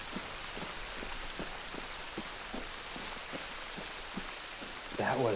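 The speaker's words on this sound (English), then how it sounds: "I'm being fascinated by the rain." Rain falls steadily in the hunting game Hunter Call of the Wild, a constant hiss dotted with regular soft ticks, and a voice briefly breaks in at the very end.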